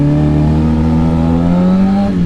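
A motorcycle engine revs hard and loud up close as the rider pulls a wheelie, the pitch climbing steadily, then dipping briefly near the end.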